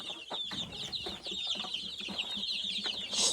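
Chickens and chicks in a coop cluck in short repeated bursts while high, continuous chick peeping runs throughout, fairly quiet and close, with no talk.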